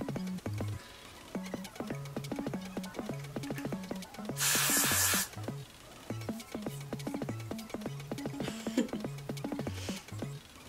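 Hairspray sprayed on a curly lace frontal wig: one short, faint aerosol hiss sounds mid-clip, with a second softer burst later, over a steady background of quiet clicking music.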